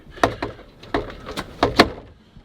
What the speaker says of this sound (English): Closing the solid door.